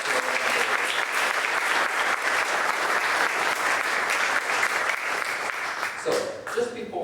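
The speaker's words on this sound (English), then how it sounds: "let's just give them a big hand of applause" Applause fills a community meeting room, loud and continuous for about six seconds before thinning out, with a voice coming in as it fades at the end.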